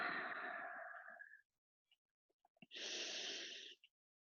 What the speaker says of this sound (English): breathing deeply in and out.